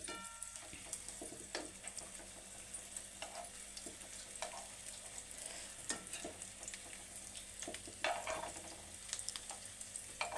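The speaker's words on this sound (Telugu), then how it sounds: "ఇలాగా మలుపుకుంటూ వేయించుకోవాలి." Sweet corn snacks sizzle steadily in hot oil in a pan, a continuous soft crackling hiss with occasional sharper pops, close and fairly quiet.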